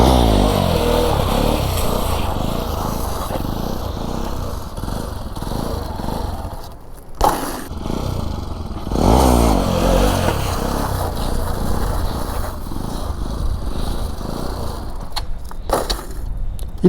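A motorcycle revs and runs close by during wheelie practice, a continuous rough engine drone with brief dips and surges in throttle, no speech.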